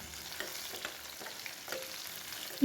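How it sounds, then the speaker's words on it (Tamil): Onion and garlic sautéing in a pan for a Tamil eggplant curry, a soft steady sizzle broken by several scraping stirs, fairly quiet with no talking. "வெங்காயமும் பூண்டும் நல்லா வதங்கட்டுங்க"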